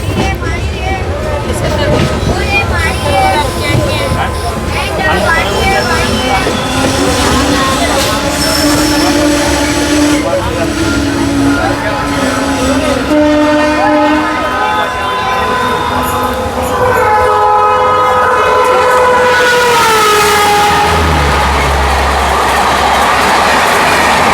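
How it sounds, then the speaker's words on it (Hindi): Rajrani Express crossing near Karauta on the Patna–Rajgir line, heard from a moving train: a loud, continuous rumble of wagons and wheels with clickety-clack and high wheel squeals throughout, plus faint background voices. "और सामने से आ रही है राजरानी एक्सप्रेस।"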